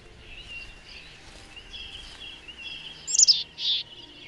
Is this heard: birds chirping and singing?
yes